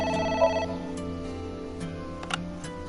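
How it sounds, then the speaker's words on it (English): A telephone rings in the video game Ai: The Somnium Files, a steady electronic ringing tone held at moderate level with a few brief clicks on top, alone with no talk. "It's the phone."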